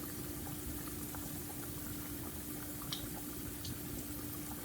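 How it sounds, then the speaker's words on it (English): Corn sticks (surullitos) cook in a pot on the stove, a continuous soft bubbling and frying hiss that stays steady and fairly faint throughout, with a faint constant hum beneath. "Well, don't let it to be a lot of bubbles that they start spilling everywhere."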